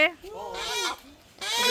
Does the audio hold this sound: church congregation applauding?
no